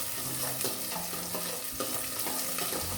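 Curry leaves and green chillies fry in hot oil for an ash gourd saaru, giving a loud, continuous sizzle and crackle with a few clinks and scrapes of stirring, close and with no voices.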